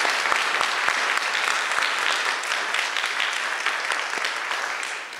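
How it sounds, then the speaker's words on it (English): Sustained audience applause at an evening Chinese New Year celebration and concert, dense steady clapping from a crowd at full strength for about five seconds, easing slightly toward the end. "Can we do one more round of applause, please?"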